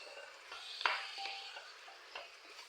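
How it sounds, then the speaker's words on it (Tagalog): Tomatoes sautéing in a pan for chicken maqluba, a quiet steady sizzle with soft scraping strokes of a spoon stirring through it. "Igisa-gisa natin muna siya"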